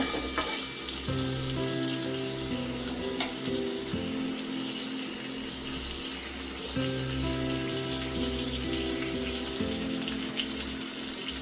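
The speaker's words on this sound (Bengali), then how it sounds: "মাছটা আমার একটা সাইড ভাজা হয়ে গেছে। এবার আমি উল্টিয়ে নেব।" Rohu fish frying in hot oil with five-spice seasoning, a steady loud close sizzle and crackle filling the whole stretch, with no voices over it.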